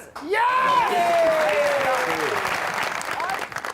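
A studio audience at a Pakistani talk show bursts into loud, dense applause, with a voice whooping or calling out over the clapping near the start, the applause holding steady then easing off.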